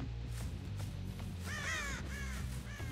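Crows caw in a quick harsh series midway through, loud over a steady low game ambience with no talk, in the horror video game Dead by Daylight.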